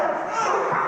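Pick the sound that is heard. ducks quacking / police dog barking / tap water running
police dog barking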